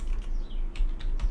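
Quick, close typing on a computer keyboard gives a short run of crisp key clicks in an uneven rhythm, with no one talking.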